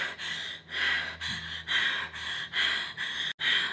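A person's voice imitates heavy breathing, with a run of loud, rhythmic, airy inhales and exhales, close to the microphone and evenly spaced.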